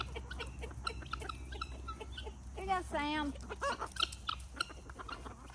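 Chickens cluck and chatter close by while a person speaks briefly over them, with a low steady hum underneath.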